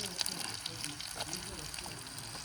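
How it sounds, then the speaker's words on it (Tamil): Cumin seeds and onion dropped into hot oil in a pan sizzle with a crackly, faint spitting hiss, soft and close, as part of an Erode-style brinjal and tomato mash. "கொத்தமல்லியுமே சீரகம் வெங்காயம் போடுறேன்."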